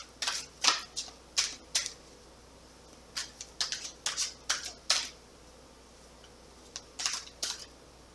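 Oracle cards from The Fairy Forest deck by Lucy Cavendish being shuffled, a series of crisp riffling bursts in irregular clusters, close and fairly quiet, with no talking.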